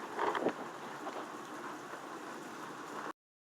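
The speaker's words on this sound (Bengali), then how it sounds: "এখন আরও জোরে বৃষ্টি এলো" Heavy rain pours outside as a dense, steady hiss of drops drumming on surfaces, loud and continuous before cutting off abruptly.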